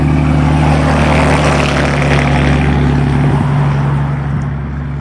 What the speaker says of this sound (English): I don't know why they put that exhaust on that truck